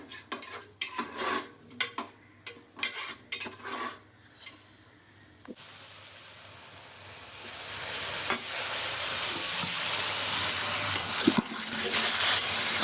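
Food is sautéed and stirred in a pan in a home kitchen, first with a run of separate metallic scrapes and clinks of a utensil, then a continuous loud sizzle with occasional knocks.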